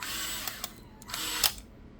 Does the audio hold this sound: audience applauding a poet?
no